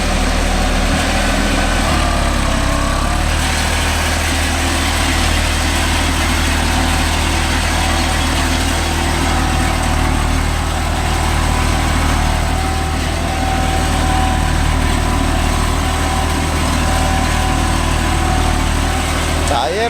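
A Deutz-Fahr 80 hp 4WD tractor runs in farmland while pulling a five-tine cultivator, its engine giving a steady, loud, close drone with a low hum and no breaks.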